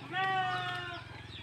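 A goat bleats in a long, wavering, nasal cry that fades out over about a second, fairly close and loud, with no talk during it.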